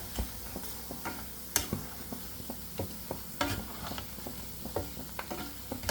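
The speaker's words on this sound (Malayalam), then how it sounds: "നന്നായിട്ട് ഈ ഭാഗം കൂടി ഒന്ന് ഫ്രൈ ആയിട്ട് വരട്ടെ" Mushrooms frying in oil for a street-food mushroom masala, with a steady low sizzle broken by frequent sharp clicks and pops from stirring, close and alone without talk.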